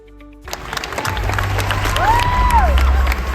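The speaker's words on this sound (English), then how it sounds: "Yes, round of applause indeed." Crowd at an event breaking into applause and cheering, swelling loudly after a quiet start, with shouts and whistles mixed through the clapping.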